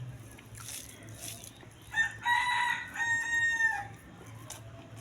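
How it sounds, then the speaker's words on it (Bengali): A rooster crows once at a moderate distance, a clear drawn-out call rising and holding for nearly two seconds above a faint low hum and scattered quiet background noises. "মোরগের ডাক শুরু হয়ে গেছে"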